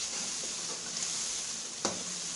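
Green chillies and tomatoes frying in oil in a pan for baingan bharta, a steady close hiss of sizzling with a single sharper crackle or stir near the end.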